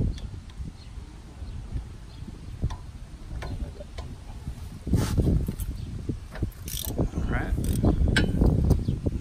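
Ratchet wrench working on a car header during a Honda CRX header replacement, quiet irregular clicks and metallic ticks in a garage, growing busier in the second half with faint background talk.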